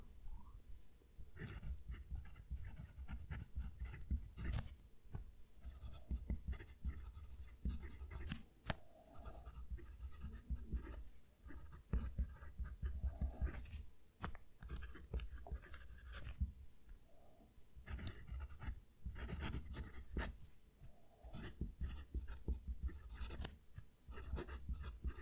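A Pelikan M800 fountain pen nib scratching across paper, a steady close, dry scratching of continuous strokes with small ticks and pauses, the writing arm resting on a kitchen towel.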